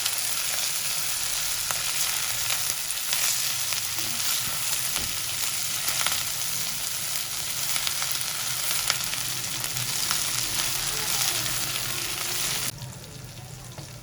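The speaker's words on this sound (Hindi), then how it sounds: "ये साथ में हम अपनी वेजिटेबल्स के साथ इसको स्टर फ्राई कर लेंगे" Kung pao chicken and vegetables stir frying in a hot pan, giving a loud, steady sizzle and crackle that runs unbroken until it drops off sharply near the end.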